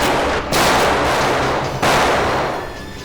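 Gunfire rings out in a TV crime drama standoff scene, two loud, reverberant bursts of shots close by, with no talk over them.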